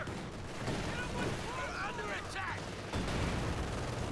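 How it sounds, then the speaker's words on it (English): Bazookas and gunfire crackle in a Company of Heroes 2 battle, a dense, fairly quiet mix of shots and blasts with whistling streaks, under a commentator's voice. "Zooks fire, one connects"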